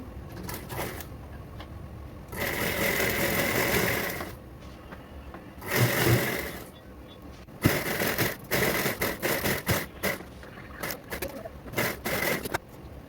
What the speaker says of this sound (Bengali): এবারে ধারগুলো আমি সেলাই করে নেব